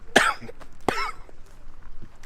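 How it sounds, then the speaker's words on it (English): Two sharp, close coughs about a second apart, followed by quiet room noise. "that's not emotions, that's me coughing."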